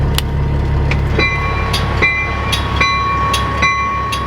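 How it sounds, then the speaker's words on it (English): A freight train rolls past up close and loud, with a steady heavy rumble and sharp, regularly spaced metallic clacks and squeals from the wheels on the rails. "Freight train coming through, man."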